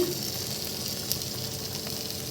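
A soft, steady sizzle hisses from a pan of bhetki fish wrapped in banana leaf on low heat, gentle and even throughout, with faint crackles over the continuous frying noise.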